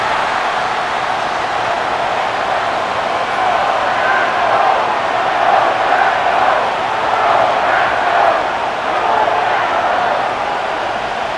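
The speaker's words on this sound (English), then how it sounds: "The crowd making their presence felt." A stadium crowd in the Madden NFL 25 football video game roars as a dense, continuous wash of noise that swells slightly in the middle and holds steady throughout.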